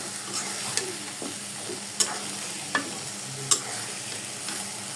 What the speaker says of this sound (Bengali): তারপরে এটাকে আরও ভালো করে কষাতে হবে, নাড়িয়ে দেব